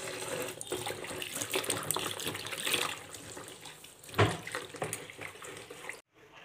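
Leaves and flowers are rinsed under a running kitchen tap, a steady close splash of water that swells and dips as they are moved, then cuts off abruptly near the end.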